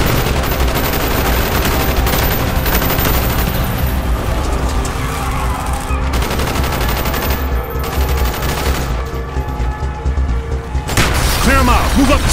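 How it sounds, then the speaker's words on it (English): Dense, loud gunfire fills a street battle in Call of Duty Black Ops, with overlapping rifle bursts and booms continuing without a break while shouted voices cut through the chaos. "Bowman, Carlos, lay down covering fire."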